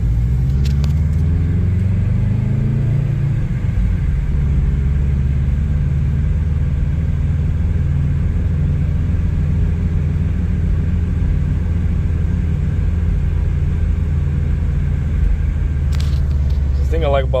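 A 2010 Subaru WRX on a test drive around the block after a radiator replacement, its engine and road rumble steady and close from inside the car, with an early rise in revs as it pulls away and a constant low hum afterward.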